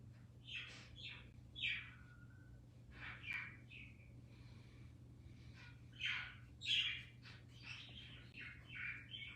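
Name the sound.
pet bird chirping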